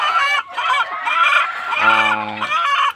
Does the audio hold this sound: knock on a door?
no